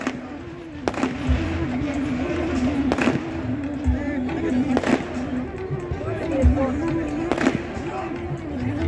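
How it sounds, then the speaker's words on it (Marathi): Fireworks and firecrackers pop in sharp bursts at an outdoor Buddhist religious gathering and honouring ceremony in Nashik, several cracks a couple of seconds apart over a steady crowd din. "फटाक्यांची आतषबाजी।"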